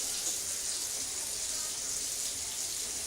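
Hot water running from a kitchen tap, a steady hissing stream, close and continuous, without talk.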